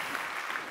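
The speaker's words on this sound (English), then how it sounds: "A big round of applause for" Brief burst of audience applause at a Code for America civic technology event, a dense, even wash of clapping from a room full of people, fairly faint and distant.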